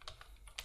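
Typing on a computer keyboard while writing Android code, with a few quiet, close keystrokes in quick succession.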